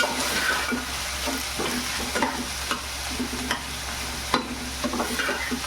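Chopped onion and green chili sizzle steadily in hot oil, stirred in a pan with regular scraping strokes close by, a continuous frying hiss with no talking.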